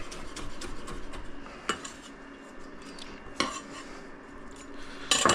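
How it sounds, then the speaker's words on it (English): Shredded turkey or chicken enchilada filling with cilantro is stirred in a bowl, making quiet clinks and scrapes of a utensil with a few louder knocks against the bowl. "Okay, so I'm going to mix this all up."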